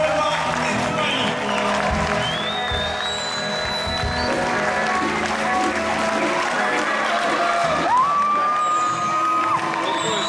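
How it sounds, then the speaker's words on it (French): A concert crowd applauds, cheers and whoops as a performer enters the stage. The noise is dense and sustained, with voices shouting within it and high whistles rising above the clapping. "avec vos applaudissements, qu'il entre sur scène, s'il vous plaît"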